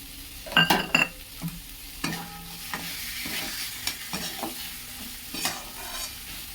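Boiled chickpeas stirred into a pan where catla fish head fries in oil, with a loud clattering scrape early on, then steady sizzling broken by intermittent spoon strokes.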